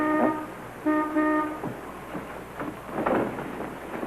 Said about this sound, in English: There's somebody honking the horn on your cab out there.